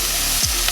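Chicken sautéing in a small amount of oil in a pot for stew, a steady close sizzle through a brief moment with a faint clink near the middle.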